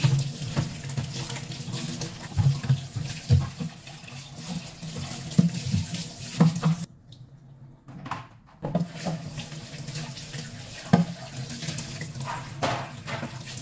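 Tap water runs and splashes while an item is rinsed by hand, an uneven patter and gush that stops briefly partway through and then resumes.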